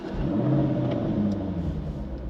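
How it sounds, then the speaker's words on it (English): Jaguar F-Type P450 V8 engine rumbling loudly with the exhaust open, its revs swelling and sagging in a steady, close growl with no talking. "this is actually one of the quieter V8s, but still sounds very, very loud."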